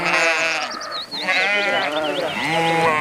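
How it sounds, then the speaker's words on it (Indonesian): A sheep bleats repeatedly in a cleaning video game, loud and close, with wavering cries that pause briefly before resuming. "muncul seekor domba"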